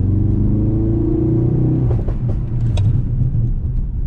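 Ford Focus RS Mk3 engine rumbling under hard braking on a wet road, a steady loud drone that drops in pitch partway through, heard up close with no talking.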